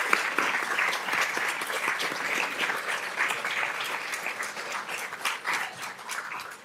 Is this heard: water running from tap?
no